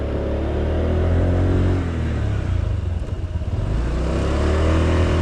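A Honda SH 125i scooter engine labours uphill, a loud, steady mid-pitched drone that rises and falls slightly as the throttle is held, heard up close with no talking.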